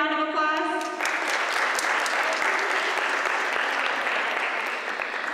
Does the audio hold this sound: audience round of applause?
yes